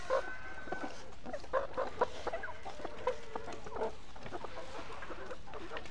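Layer hens clucking steadily in the morning as they eat feed, the overlapping clucks and short calls close by and continuous throughout, with no talking.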